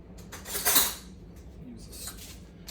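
A fork spreading coffee cake batter in a greased pan: a burst of metallic scraping and clinking against the pan, then softer scattered scrapes, close by, with no speech.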